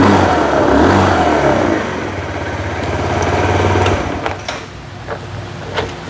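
A 2024 Kawasaki Z125 motorcycle exhaust at a dealership revs loudly up close, a rising throaty blip followed by settling back toward a lower idle burble.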